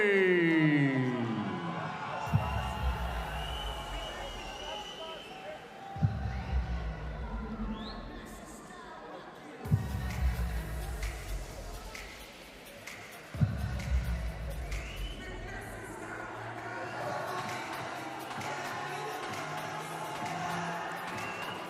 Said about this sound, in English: Nice round of applause goes out here for Sana El Masmoody